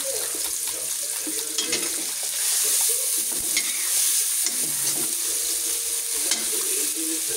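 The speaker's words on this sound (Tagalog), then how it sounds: "pag nagigisa po kayong kamatis" Tomatoes sautéing in a pan while scrambled eggs with chili are being made, a steady sizzle joined by frequent scraping and stirring clatter at close range, with no talking.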